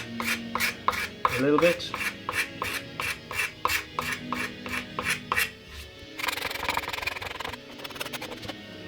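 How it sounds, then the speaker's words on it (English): A scraper drags repeatedly across a guitar's finish to give it a relic look, making rhythmic rasping strokes in both directions, close and fairly loud, with a brief spoken phrase near the start. "Now I'm just gonna scrape away"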